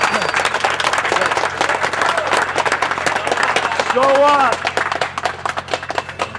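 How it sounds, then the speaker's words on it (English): Group of people giving a sustained round of applause, dense rapid clapping filling the whole stretch, with a voice speaking over it and a brief whistle-like cheer partway through. "I want everybody to give Damien a round of applause"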